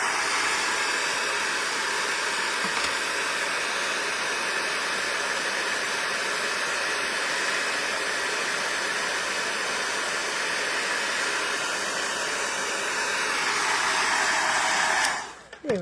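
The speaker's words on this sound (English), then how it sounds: "Brush off a little of that excess and heat it up." Heat gun blowing steadily to melt embossing powder on a handmade metallic card, a loud continuous hiss and whir lasting about fifteen seconds before cutting off abruptly.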